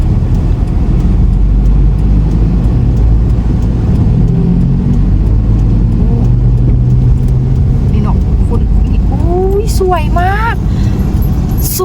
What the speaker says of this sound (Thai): ตอนนี้ก็รถติดอยู่นะทุกคน